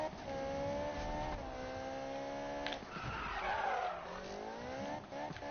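Car tires skid and squeal as a car slides in Need for Speed, a loud continuous engine drone with a sharp tire screech rising near the middle, then settling back to steady revving.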